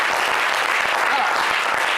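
A studio audience claps in a broadcast set, a steady, full round of applause at close range.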